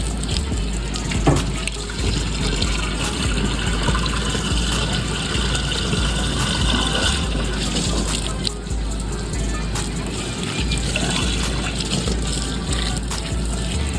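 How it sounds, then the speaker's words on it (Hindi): Water pours steadily into a car's windshield washer fluid reservoir, a continuous loud splashing rush lasting throughout with outdoor background noise. "इसके अंदर पानी भर लेते हैं विंडशील्ड वाले वाइपर में जो है।"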